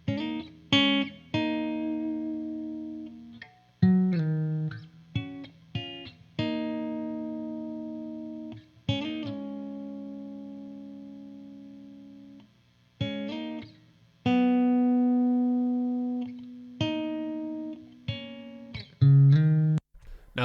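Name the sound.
lead guitar part from a song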